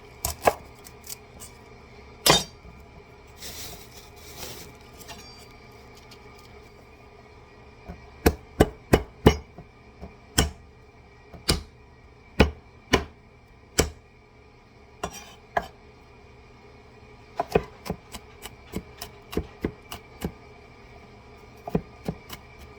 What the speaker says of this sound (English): So let's start chopping.